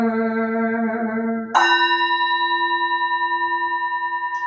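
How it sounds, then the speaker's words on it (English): A Buddhist temple bell is struck during a Sunday public service, its steady resonant hum giving way to a bright new strike whose layered, shimmering tones ring on and slowly decay with a gentle pulsing waver, loud and close. "Here is the after sound of the bell."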